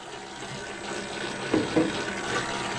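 Water poured into a focaccia dough mix for rosemary focaccia, a soft steady trickle with a couple of brief splashy bursts midway, close and fairly quiet with no talking.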